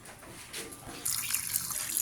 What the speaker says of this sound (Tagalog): At lagyan po natin ito ng tubig.